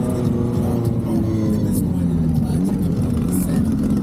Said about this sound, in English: These 3 cars just freaking rip.